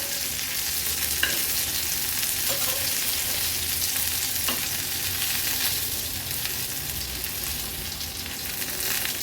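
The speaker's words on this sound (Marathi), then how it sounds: "आता ह्या मिरच्या आपण पलटून घेणार आहोत।" Stuffed green chillies frying in a pan, a steady, close sizzle running throughout, with a few light clicks and scrapes as the chillies are turned one by one.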